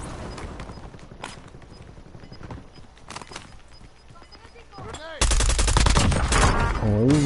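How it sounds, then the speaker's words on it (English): Gunfire in the video game Call of Duty Warzone, scattered shots and bursts mixed with hoofbeat-like clatter, turning into a loud, dense barrage near the end as a player talks. "Grim Mysterio is shooting in front of us"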